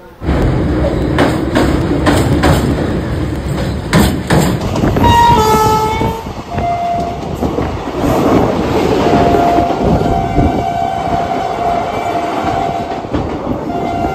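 Maa Tara Express passenger train from Sealdah running on rails toward Naihati Junction, a loud steady rumble with rhythmic clickety-clack and brief horn-like tones, continuous and close throughout.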